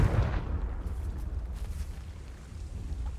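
A Confringo spell explosion in Hogwarts Legacy bursts out with a sharp blast at the start, then settles into a low, sustained rumble for a few seconds, with no voices over it.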